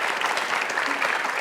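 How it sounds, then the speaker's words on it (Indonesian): An audience claps for a guest at an evening talk event, a uniform, moderately loud wash of many hands with no voices over it. "tangan dulu dong buat Meisya."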